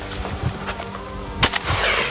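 A single shotgun blast during a dove hunt in South Dakota fields, a sharp loud crack near the middle, with low rustling, wind and faint outdoor noise around it.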